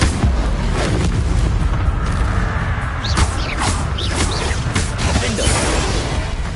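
Bombarda blasting spells burst in a Hogwarts video game, a steady roar of booms and crashes with several sharp impacts clustered in the middle, loud and dense throughout, with a voice calling out spell names.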